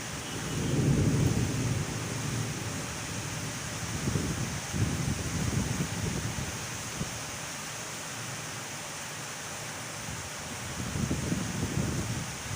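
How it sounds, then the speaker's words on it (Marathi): Heavy monsoon rain in Akola falls as a constant hiss while deep thunder rolls in several long rumbles, strongest at the start and near the end, with no talking. "मला वाटतं हा पाऊस अजून एक तास तरी थांबणार नाही आहे"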